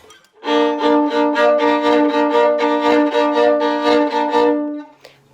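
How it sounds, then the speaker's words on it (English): A violin plays a quick passage of repeated notes with bright, full tone, then stops. "So usually the violin would sound like this in that passage."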